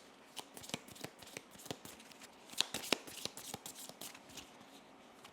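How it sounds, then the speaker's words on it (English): Cards are shuffled and drawn in Slay the Spire, a quick run of crisp riffling snaps and flicks in a steady stuttering rhythm, with a couple of sharper clicks midway, alone and fairly quiet. "and we are shuffling"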